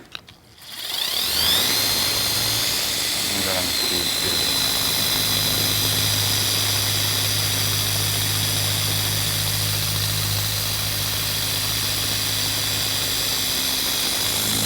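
A RUPES orbital polisher with a brand new 1-inch wool pad on a 12mm orbit, run around speed 3 while polishing an Audi R8, spins up from quiet into a steady, loud, whining drone that holds unbroken.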